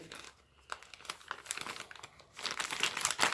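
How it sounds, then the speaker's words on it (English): Tape peeled back and the packaging of a Hungarian H/5 24-hour ration meal folded over, giving close crinkling and crackling that turns louder and denser toward the end, with no talking. "We'll peel back our piece of tape here, fold it over the meal."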